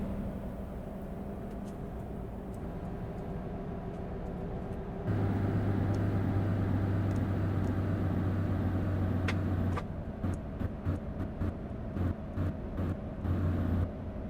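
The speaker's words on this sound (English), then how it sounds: "I don't know if you can hear that Jake brake or not." Engine braking from a heavy truck in American Truck Simulator, a steady low rumbling drone that switches on partway through and holds loud and close, then cuts in and out in short bursts near the end.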